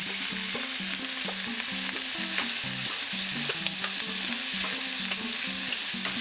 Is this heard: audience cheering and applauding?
no